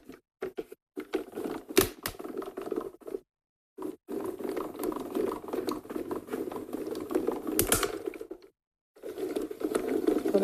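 A small craft machine in a UK studio feeds material through in bursts of rapid ticking and pattering, broken by brief pauses of near silence, close and fairly quiet.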